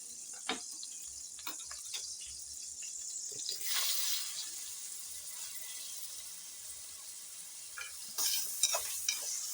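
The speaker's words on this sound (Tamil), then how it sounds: "எண்ணெயை ஊற்றிட்டு வெங்காயத்தை போடணும்." Onions frying in oil in a pan for a mutton paya gravy: a soft, steady sizzle under scattered spoon clinks and scrapes, with a brief louder hiss as the onions go in and a few sharp stirring knocks near the end.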